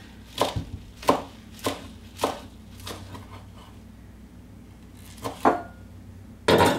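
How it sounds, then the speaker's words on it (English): A knife slices through kale on a cutting board in about seven crisp chops, spaced unevenly with a pause in the middle, followed by a louder rustling thump at the end; no one talks. "all I do is just cut this into strips"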